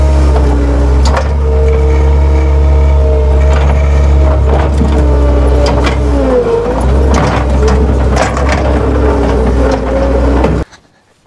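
Skid steer loader working on a farm field, its diesel engine running loud and close with a steady low drone, some clanking and shifting revs throughout, then cutting off abruptly at the end.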